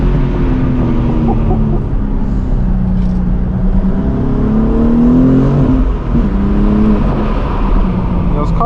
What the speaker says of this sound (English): Those turbo sounds from the G82,